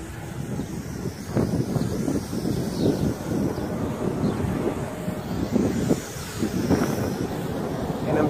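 Strong wind buffets the microphone in a continuous rough rumble, gusting louder at moments, with a faint engine-like whine underneath from a small ATS S611 flying model flown low outdoors.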